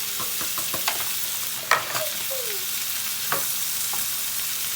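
Spices stirred into vegetables frying in sunflower oil for a quick vegetable tajine: a steady close sizzle broken by scraping stirring strokes and a few louder clacks of the utensil against the pan.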